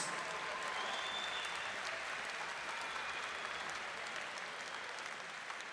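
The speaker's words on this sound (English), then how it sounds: "can we please have a round of applause for these two warriors?" Audience applause for two fighters at a hybrid-rules combat sports event, a steady wash of clapping that stays moderately distant and even throughout, with a faint crowd murmur underneath.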